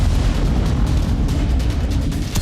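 Drone strike explosions in Kyiv make deep, rumbling booms and bursts. They are loud and dense with several overlapping low blasts, and no speech is heard.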